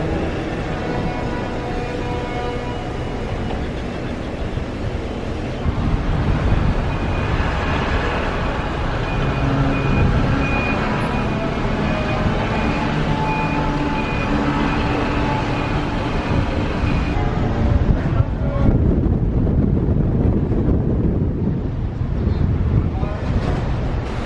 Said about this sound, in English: And so the engines start up, and we say farewell to Castaway Cay.